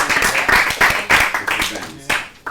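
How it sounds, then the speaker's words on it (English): A room of people on a business reality competition gives a brief round of applause, uneven claps coming in bursts at close range, mixed with voices talking over it. "you all should give her a round of applause"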